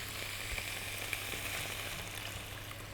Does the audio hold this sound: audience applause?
no